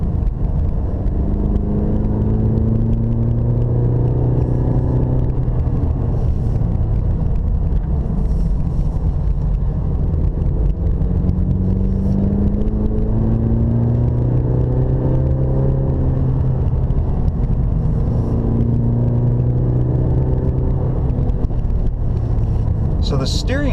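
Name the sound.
Cadillac car driving up a mountain road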